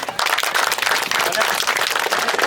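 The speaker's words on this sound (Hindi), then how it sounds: "एक बार हमारे भारतीय सैनिकों के लिए तालियां" Audience applause for Indian soldiers at Shaurya Sandhya, an army event in Nagpur in 2024. The clapping is dense and steady and stays loud for the whole stretch after a brief quiet start.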